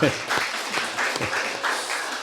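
Congregation applauding during a Sunday church worship service at a Baptist church, a steady wash of clapping with rhythmic surges, close and fairly loud, filling the whole moment.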